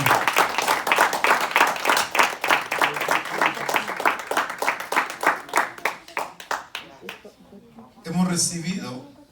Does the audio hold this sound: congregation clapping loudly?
yes